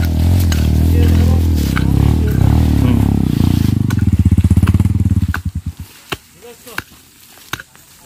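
Enduro motorcycle engine revving hard on a natural training trail, a loud sustained roar that rises, then breaks into choppy pulsing bursts and fades to sputters near the end.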